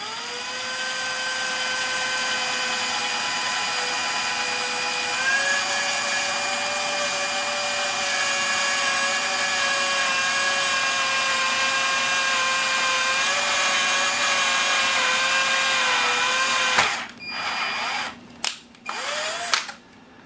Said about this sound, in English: so that actually drilled a hole and cut threads